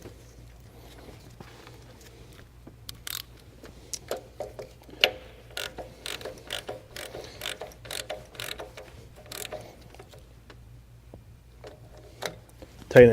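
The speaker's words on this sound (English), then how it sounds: "Tighten it down with the ratchet" A hand ratchet clicks in short, quick bursts while snugging a new PCV valve into the valve cover of a Chrysler 2.4L MultiAir engine. The sound is close and fairly faint over a low steady hum.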